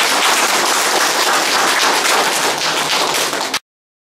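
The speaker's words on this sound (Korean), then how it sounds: "다 같이 박수를 한번 했으면 좋겠습니다" Audience applause at the opening of a photo exhibition, a dense, loud burst of many hands clapping steadily for about three and a half seconds before cutting off abruptly.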